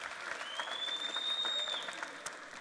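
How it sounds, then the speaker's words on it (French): Applause from a church Christmas service congregation, a steady wash of clapping heard at some distance, with a faint high whistle rising over it. "Alors, on peut applaudir"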